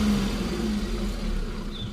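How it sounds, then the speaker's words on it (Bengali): A car engine idling and creeping forward as it parks into a garage, a steady low hum with slight revving, close and continuous for a couple of seconds, no talk. "এখন গাড়িটাকে গ্যারেজ করছে।"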